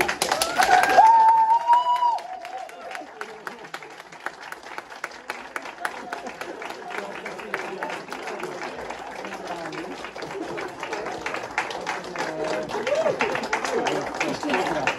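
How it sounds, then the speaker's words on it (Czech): An audience applauds Daniel at a bridge club Hall of Fame induction, with sustained clapping from a crowd at moderate distance and a few voices talking over it. "Ještě mu budeme tleskat, než si projdeme prezentaci."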